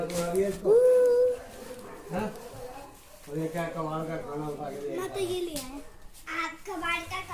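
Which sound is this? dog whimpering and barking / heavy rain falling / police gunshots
dog whimpering and barking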